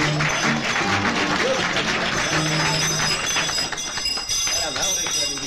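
Audience clapping at a student cabaret-style stage show, steady dense applause throughout with a host's voice speaking over it.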